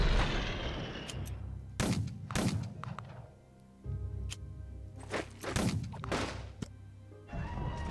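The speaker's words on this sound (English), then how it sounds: "Can we bombard these guys at Tunis?" Artillery bombardment in the strategy game Unity of Command II, heavy booming impacts landing in an irregular series, some close and loud, with low rumbling between the blasts.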